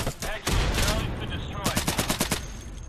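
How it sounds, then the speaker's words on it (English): AK rifle gunfire in the tactical shooter Insurgency, loud bursts and a rapid string of sharp cracks near the end, mixed with game noise and some voice chatter. "I can hear an AK from behind."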